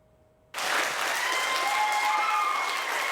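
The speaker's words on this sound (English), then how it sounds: "Applause and cheers Monday night as the City-County Council overrode the mayor's veto" A City-County Council chamber bursts into applause and cheers after the council overrides the mayor's veto; loud, dense clapping starts abruptly and holds steady, with a few raised voices cheering within it.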